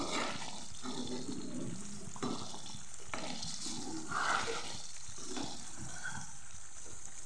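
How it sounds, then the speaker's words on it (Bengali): Chicken is stirred in hot oil in a pan for a shahi chicken dish, a continuous close sizzle broken by repeated scraping stirring strokes across the whole stretch, with no talk. "এই নাড়তে হবে 10 বার।"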